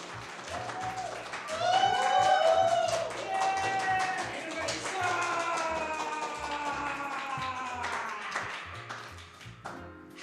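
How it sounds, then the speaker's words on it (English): People clap at the close of a cartoon awards show: steady, rhythmic applause runs throughout under loud melodic music, with a brief louder burst at the very end. "All right, guys, clap, clap, clap"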